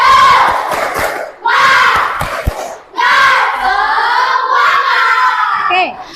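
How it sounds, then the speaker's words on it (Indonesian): A school class claps and chants together in a rhythmic spirit clap, loud children's voices in unison with sharp hand claps between shouted phrases, in bursts. "Tepuk semangat."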